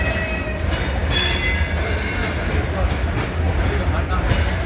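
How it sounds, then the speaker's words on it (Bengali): Darjeeling toy train rolling into the station, a steady low rumble of rail cars with a few brief high wheel squeals over it, fairly close, with talk and crowd noise in the background. "টয় ট্রেন আসছে"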